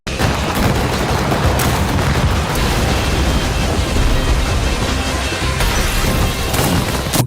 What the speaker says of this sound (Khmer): ឲ្យកើតមានការផ្ទុះយ៉ាងខ្លាំង